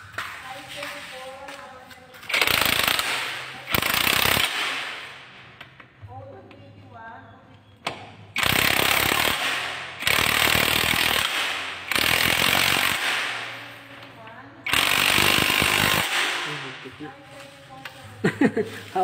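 A 3-in-1 cordless impact wrench and electric drill with a 6500 mAh battery fires in repeated loud bursts of a few seconds each, with people talking in the gaps between runs.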